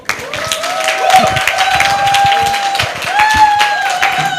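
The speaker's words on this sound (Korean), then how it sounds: "우리 박수로" A church teachers' seminar audience breaks into clapping, a dense wash of many hands sustained for several seconds, while a tonal ringing and some voices sound alongside it.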